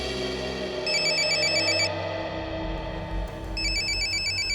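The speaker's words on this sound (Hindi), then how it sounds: "किसका फोन है?" Mobile phone ringtone for an incoming call, an electronic warbling trill ringing in two bursts separated by a short pause, clear and close over a low background hum.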